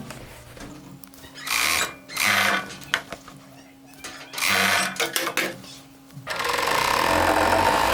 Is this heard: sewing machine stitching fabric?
yes